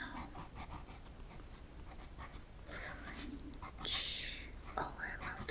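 Pencil scratching on paper in quick, close strokes, soft and intimate, with quiet whispering in between.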